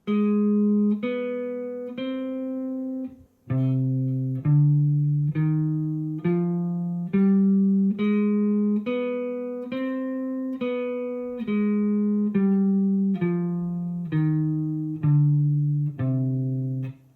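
A guitar plays a harmonic minor scale in a steady run of single plucked notes, rising and falling in even rhythm, each note ringing clearly with no talking.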